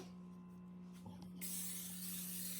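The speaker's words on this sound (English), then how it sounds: "let me spray this from the bottom of the pan real quick" A sustained non-stick cooking spray hisses steadily for over a second onto the bottom of a pan, close and fairly loud, following a few faint clicks.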